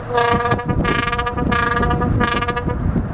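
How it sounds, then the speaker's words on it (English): A drawbridge horn on the Okeechobee Waterway sounds the danger signal in four or five short, evenly spaced blasts, each a harmonic tone, with steady background rumble underneath. "there's our five short blasts, which means danger"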